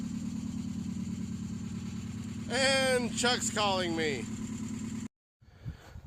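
A car engine idles steadily with a low rumbling drone before it is switched off and cuts to near silence; someone talks over it briefly.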